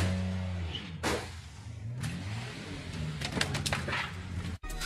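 A car speeds past with a rising rush of engine and wind noise, loud whooshes cutting through a steady road drone, followed by a sharp cutoff near the end.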